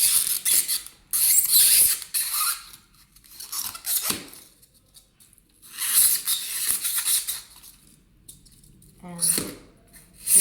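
Cutting the edges off a material test sample, with scraping, rasping strokes in bursts separated by pauses, fairly close and moderately loud, alone without talk.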